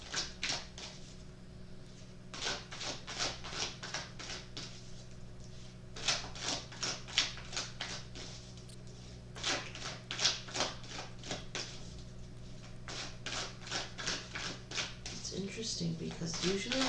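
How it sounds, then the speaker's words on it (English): Tarot cards being shuffled in repeated bursts of crisp riffling and clicking, steady and close, over a low constant hum with brief pauses between bursts. "usually I want to shuffle for a while"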